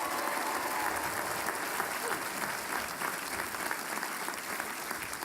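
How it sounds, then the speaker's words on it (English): Commencement audience applauding graduates' parents and families, a broad, sustained wash of clapping from a large crowd, steady and fairly distant, with some voices mixed in. "What about a nice round of applause for them?"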